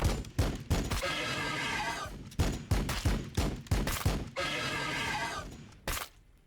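Weapon fire in the Warhammer 40k Battlesector video game, a rapid run of loud close bursts and sharp cracks with brief gaps, then another sustained volley and a final lone shot.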